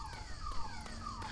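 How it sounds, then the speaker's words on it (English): A car alarm going off in the video game Just Cause 2, a steady electronic siren-like wail with sweeping tones, fairly faint and continuous through the short stretch with no talking. "now the car alarm goes off"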